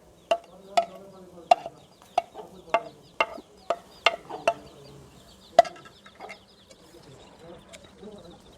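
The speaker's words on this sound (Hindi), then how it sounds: "मुर्गी के छोटे छोटे बच्चे हैं, देखे कितने प्यारे लग रहे हैं, दाना खा रहे हैं" Small chicken chicks cluck and peep while pecking at grain, a string of sharp, close chirps spaced irregularly, with faint soft sounds between them that thin out toward the end.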